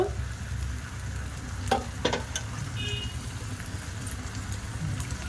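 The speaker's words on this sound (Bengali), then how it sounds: "এবার যে দুধটা আমি জাল দিয়ে রেখেছিলাম ওই দুধটাও দিয়ে দেব" Boiled milk poured into chicken cooking in a hot pan, with steady loud sizzling and bubbling throughout, a few brief clinks and scrapes in the middle, close and continuous.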